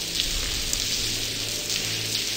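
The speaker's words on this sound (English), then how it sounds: "Hey, let's get out of this rain." Steady, pouring rain in The Blackwell adventure game, a dense continuous hiss of drops close by with no other sounds over it.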